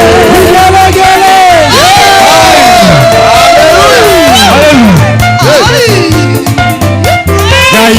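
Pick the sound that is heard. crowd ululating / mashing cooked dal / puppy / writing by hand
crowd ululating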